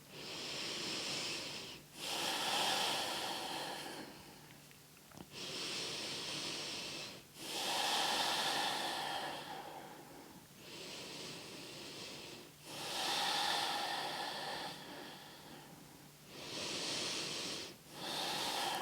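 Slow, deep breaths taken while holding a neck and shoulder yoga stretch, with long airy inhales and exhales alternating in a steady cycle of roughly five seconds each, close and quiet.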